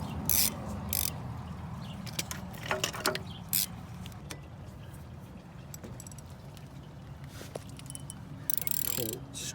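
Ratchet wrench clicking as front brake bolts are removed from a 2002-2007 Jeep, with bursts of close ratcheting and metallic clatter spread through the clip over a steady low background hum.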